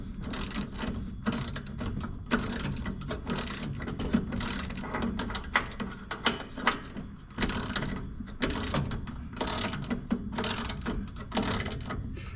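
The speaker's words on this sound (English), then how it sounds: "and we'll tighten her back up." A ratchet wrench tightens the deck belt bolt on a Cub Cadet LTX1045 riding mower, with repeated close clicking pawl strokes in uneven bursts and no talking.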